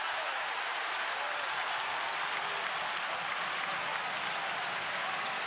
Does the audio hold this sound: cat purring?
no